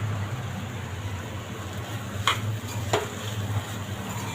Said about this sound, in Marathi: ढवळून घेते.